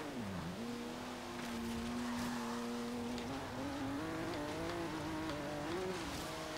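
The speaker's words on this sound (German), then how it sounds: "Nochmal schön den Reifen verbrennen." A BMW M4 in the Forza Horizon 3 racing game screeches its burning tires over a loud, steady engine drone whose pitch dips and then climbs gradually, continuous and close throughout.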